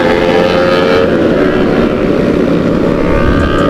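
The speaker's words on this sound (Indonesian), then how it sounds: "Tuh berisik banget ya orang pada speeding." Bore-up motorcycles speed past on a road, a loud, continuous, close engine drone and roar filling the whole moment without talk.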